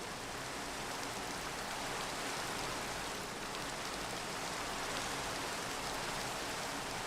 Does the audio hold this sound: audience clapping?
no